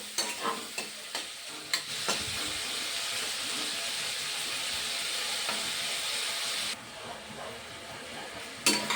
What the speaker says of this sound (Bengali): আমরা হালকা করে ভাজবো